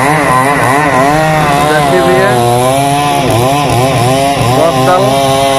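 A chainsaw runs continuously at high revs, loud and close, while cutting through a huge damaged tree in a town setting, its engine pitch wavering slightly as it bites into the wood.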